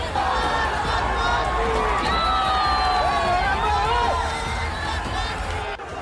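Angry protest crowd in Ahmedabad, Gujarat, smashing things and pushing against police, roars in a loud, continuous uproar of shouting and whooping voices, dense and close throughout, easing only briefly near the end.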